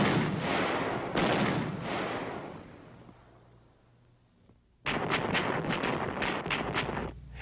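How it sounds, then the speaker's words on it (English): Division artillery firing on a target area during an assault: heavy booming blasts with rumbling decay, a lull, then a dense run of rapid loud shots, with wind noise and no speech. "Phase 2 of the assault finds the division artillery beginning to pound the target area."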